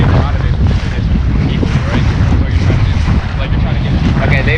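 Strong wind roars across the microphone aboard a Lightning sailboat planing on a very windy day, a loud, constant buffeting rumble mixed with rushing water and spray.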